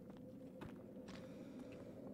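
Running creature footsteps in the survival horror game Sons of the Forest, a quick series of faint, muffled thuds over a steady low ambient hum, with no talking.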